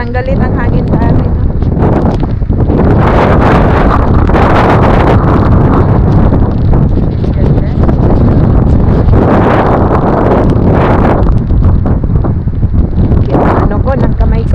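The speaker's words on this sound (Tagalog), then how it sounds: "Parang galit ang hangin sa atin." Strong wind and rain at Suomenlinna, Finland, roar as loud, constant buffeting against the microphone. The gusts surge in waves, and a voice is partly heard beneath the blustering.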